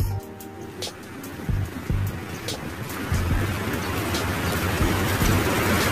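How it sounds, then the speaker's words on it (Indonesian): Light, patchy drizzle falls steadily with a soft pattering hiss, accompanied by a low background rumble, and no one speaks. "Ini hujan ya. Gerimis, tapi gerimis gak jelas."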